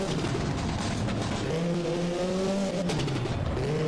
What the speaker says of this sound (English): Paranopoulos not too far behind him in the Ford Escort Cosworth